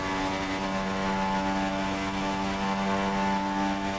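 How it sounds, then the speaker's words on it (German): A helicopter in the F1 2016 racing game flies close during the Belgian Grand Prix at Spa, its steady, loud droning rotor and engine tone filling the whole stretch without pause. "Oh, da ist ein Helikopter, der ist ja recht nah."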